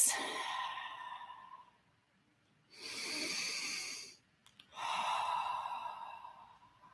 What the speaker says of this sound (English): Just going to take 3 deep breaths.